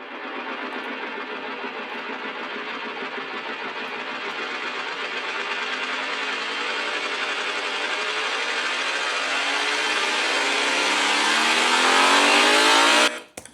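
An organic rising sound effect built in Ableton Live swells steadily over about thirteen seconds, a dense, whooshing, engine-like texture climbing in pitch and loudness before cutting off sharply at the end.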